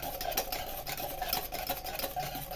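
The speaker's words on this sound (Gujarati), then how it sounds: "હલાવવું, જેથી કરી મિક્સ થઈ જાય" Cold coffee being stirred to mix it, a steady run of soft clinking and swishing strokes close by with no voices.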